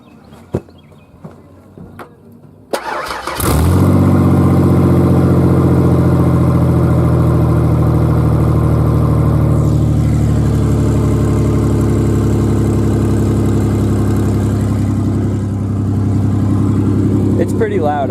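A Ford 4.0 truck engine with open headers fires up and settles into a loud, steady, rumbling idle right beside the listener, running on without revving for many seconds.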